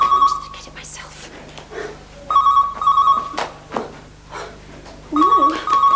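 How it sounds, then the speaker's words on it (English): A telephone bell rings in short repeated bursts with gaps between them, heard under a voice talking nearby, in a 1991 British children's TV comedy scene. "Max, the phone's ringing."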